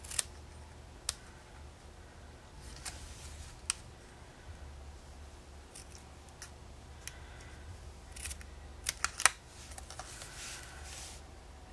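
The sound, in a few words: paper snips cutting paper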